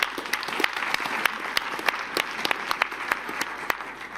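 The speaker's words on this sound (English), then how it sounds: "giving them a big round of applause" A crowd applauding steadily, dense clapping with a few sharper individual claps standing out, continuing throughout without a break.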